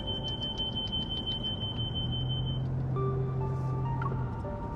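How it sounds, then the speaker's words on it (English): A wristwatch in a video game gives off rapid, steady electronic beeps at a fairly high pitch for the first couple of seconds, then they fade into a low rumble and scattered synthetic tones. "accompanied by the threshold beeping from my watch"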